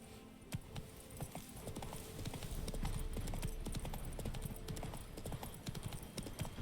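Horse hooves clip-clopping in The Witcher 3, a steady rhythmic trot quickening into a gallop, close and continuous over soft in-game ambience.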